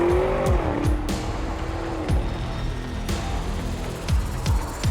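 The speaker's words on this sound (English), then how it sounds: "The SQ8 is definitely more sporty and the engine sounds great." An Audi SQ8 rated at 500 bhp roars hard under acceleration, engine note climbing through repeated surges while tires squeal loudly and continuously, close and intense.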